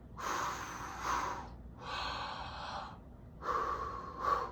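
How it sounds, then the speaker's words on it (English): Three drawn breaths in a recorder practice session, each a breathy rush lasting about a second, fairly close and clear with short pauses between, no talking. "So take a deep breath."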